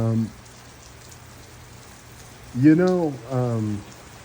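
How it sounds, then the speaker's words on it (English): Steady rain falls outdoors as a constant close hiss of drops, with a person speaking briefly under it at the start and again near the end. "I lost my train of thought because this rain's picking up."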